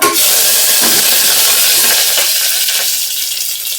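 Mustard seeds, cumin and curry leaves sizzle in hot oil for a tempering, a loud steady hiss with faint crackles and pops that eases off slightly toward the end.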